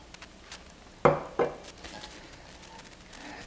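A small cooking pan is picked up and set down, two close metallic clanks about half a second apart in a quiet kitchen, followed by faint light clatter.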